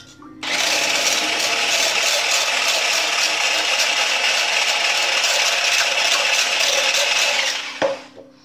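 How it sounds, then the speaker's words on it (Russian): A hand blender's whisk attachment beats egg yolks for an apricot grated pie, a loud, steady motorized whirr with a fine rattling texture that starts abruptly, runs continuously for about seven seconds close by, then cuts off. "Так, сразу взбиваем желточки."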